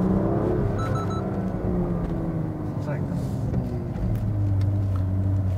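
A BMW M2 Competition on a test drive gives a steady, deep engine and road rumble that fills the cabin throughout, with a muffled voice faintly underneath at times.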